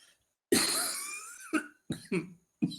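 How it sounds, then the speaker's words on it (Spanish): A person coughs several times in a row during a lecture, one long harsh cough followed by a few shorter ones, close and clear, with brief silences between. "la tos me está matando"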